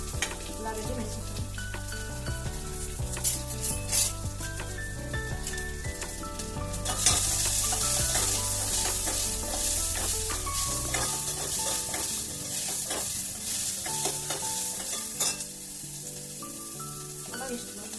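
Onion, green chilli and curry leaves fry with cumin and mustard seeds in a little oil in a steel pan, giving a close, steady sizzle with scraping stirring throughout.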